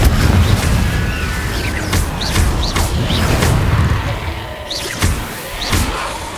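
Confringo fire-spell blasts in Hogwarts Legacy go off as sharp booms with crackling impacts, several in a row over a rumbling game backdrop.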